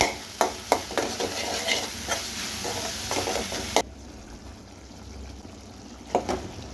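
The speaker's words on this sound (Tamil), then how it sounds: "சேர்த்து அதுவுமே நல்லா அந்த எண்ணெயிலே வதக்கணும்." Tomatoes sautéing in oil for mutton masala, a steady close sizzle broken by sharp clinks and scrapes of a spoon stirring against the pan, then a quieter stretch of faint frying before a few more taps.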